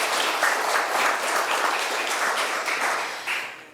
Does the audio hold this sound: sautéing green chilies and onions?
no